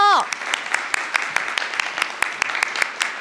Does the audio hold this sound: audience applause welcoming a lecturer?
yes